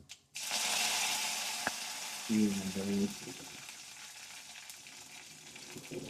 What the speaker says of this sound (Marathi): जरा तडतडी दाखवा